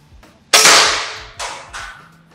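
A sharp crack from a stainless-steel air rifle followed by a ringing metallic clatter, then two fainter knocks as the struck triple-layered can tumbles, close and clear with no talk.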